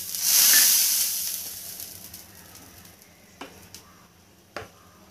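Water sprinkled onto an overheated dosa tawa bursts into a loud, bright sizzle that swells in the first second and slowly fades into a quieter hiss, with a couple of sharp clicks near the end.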